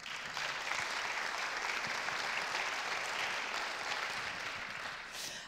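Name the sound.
audience applauding Bernard de Verneuil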